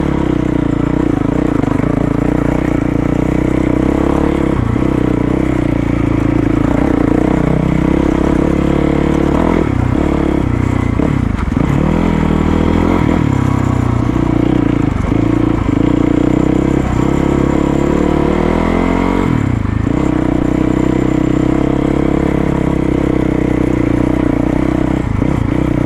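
A Yamaha WR450 dual sport motorcycle rides along a desert trail in Arizona, its engine droning steadily and close throughout, with the pitch rising and falling as the throttle changes and some rattling from the rough ground.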